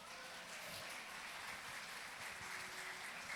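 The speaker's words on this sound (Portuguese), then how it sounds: "Aplauda, Senhor" A church congregation applauds together, a steady wash of clapping that holds evenly for a few seconds at moderate loudness with no talk over it.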